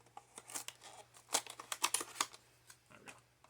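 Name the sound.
ripping open Samsung Galaxy S21 Ultra packaging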